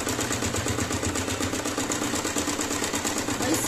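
A sewing machine runs steadily as it stitches a folded fabric hem on a shoe-sewing project, a continuous close mechanical whir with a fast rhythmic needle pulse and no talking.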